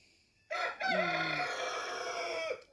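A rooster in a village crows once nearby, a loud drawn-out call of about two seconds that rises and then holds before cutting off, with quiet surroundings before and after.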